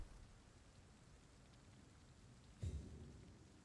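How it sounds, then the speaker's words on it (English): Rain falls in the video game Vampyr, a soft, steady hiss of patter under low ambient rumble, with a brief heavier thump or gust near the end. "It is raining outside."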